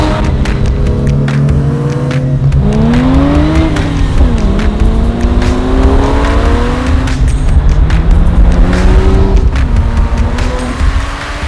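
A 1996 Porsche 911 Turbo 993 engine revving hard under acceleration, loud and close, with the pitch climbing through each gear, dropping at the shifts, then rising again over constant road and wind roar.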